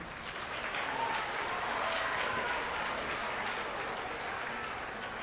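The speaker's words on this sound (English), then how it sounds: "you could clap for Mallory if you want to" Parents in the audience at a 7th and 8th grade spring choir concert clap for a singer, a moderate, even patter of many hands that lasts a few seconds at a steady level.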